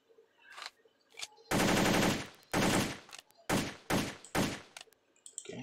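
An AR-18 gas blowback airsoft rifle fires close and loud: a few isolated single shots, then a sustained full-auto burst, followed by several shorter bursts with gaps between them.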